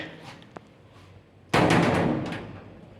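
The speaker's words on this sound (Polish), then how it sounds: "Dobra, zamykamy pierwsze drzwi." A double-leaf elevator landing door in a Warsaw building swings shut with a sudden loud slam and metallic rattle that rings out and decays in a reverberant stairwell, following a faint tap.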